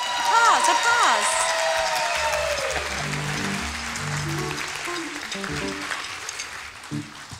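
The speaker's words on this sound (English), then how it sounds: "Applause. Applause, applause." Applause from a church audience at a Christmas service, a dense wash of clapping that fades after a few seconds as voices and faint music carry on underneath.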